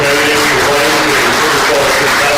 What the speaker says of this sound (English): let's give everybody a round of applause to each of our candidates for running for the Fergus Falls City Council